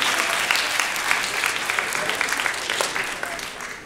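A crowd applauds at a Muslim student conference lecture, steady dense clapping filling the room for several seconds with a few voices mixed in.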